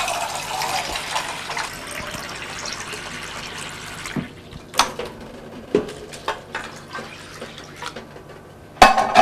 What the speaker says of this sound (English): Go through, giving it a nice long rinse with the filtered water.